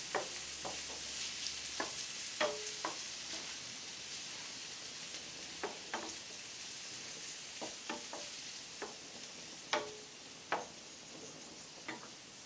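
Onions and peppers sautéing in a pan for seafood paella, a soft continuous sizzle with scattered ticks and clicks of a spoon stirring throughout, fairly quiet and with no talking.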